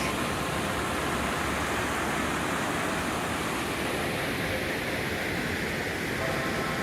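Constant broadband roar of the Rogue River rushing through the Rogue Gorge, a deep, narrow canyon, steady and unbroken, like a river churning through a narrow channel nearby.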